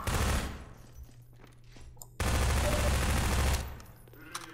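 Gunfire from the video game Half-Life 2 comes in loud, sustained bursts of rapid automatic shots, with a pause between two long volleys and a few single sharp cracks.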